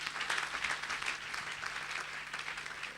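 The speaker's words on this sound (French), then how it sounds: "Acclamons plus fort le roi des rois." A church congregation claps loudly and continuously, a dense, even wash of applause throughout.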